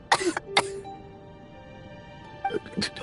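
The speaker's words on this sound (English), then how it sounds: "How long have you had that cough, Tonya?" A character in Genshin Impact coughs in two short groups of harsh, close bursts, separated by a quiet stretch with a faint tone underneath.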